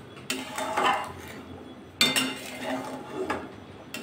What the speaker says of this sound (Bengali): নাড়িয়ে নেব